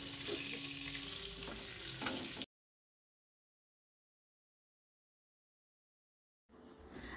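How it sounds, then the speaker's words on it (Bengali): Eggplant slices (begun bhaja) fry in a pan of hot oil with a steady, close sizzle for about two seconds. Silence follows, then the frying noise returns at a lower level. "এই দেখো বেগুন ভাজাটা করছি"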